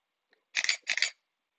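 Single camera shutter release at 1/800 second, a crisp close double burst of mechanical clatter, mirror up and down, standing alone in a quiet room after a faint tick.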